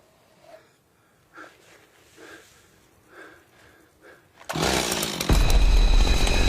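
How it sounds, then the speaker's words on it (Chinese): A chainsaw starts up abruptly and roars loud and close in a horror film, after several brief muffled sounds and breaths. "白衣男也听见了电锯的声音"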